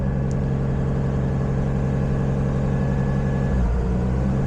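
A Nissan Skyline engine idles with ignition errors, giving a loud, steady, close-up rumble with a faint rhythmic pulse. Near the end the tone shifts lower. No one speaks.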